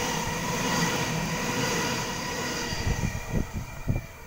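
A Waratah train passes through Lewisham station in Sydney with a loud, steady rumble and roar close by, and wheel clunks thump over the rail joints toward the end.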